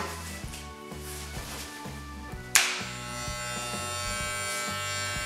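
Electric hair clippers with the guard removed, set to about an eighth of an inch, buzz steadily while cutting hair, with a brief sharp click partway through before the hum continues close and even.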